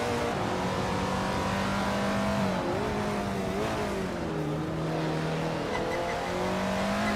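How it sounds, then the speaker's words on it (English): A Porsche 917 LH long-tail race car roars continuously in a racing video game, engine droning loud and steady with pitch rising and falling through gear changes. "Hingle Kringleberry is driving a Porsche 917 LH, a long-tail version designed for high-speed tracks"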